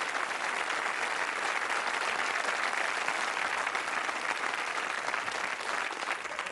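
A studio audience on a 1990 television game show claps loudly and steadily in a dense, sustained round of applause that tapers slightly at the end.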